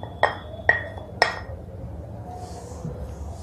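Yogurt macaroni salad being stirred in a bowl, with three sharp clinks of a spoon against the dish close together near the start, then quiet mixing.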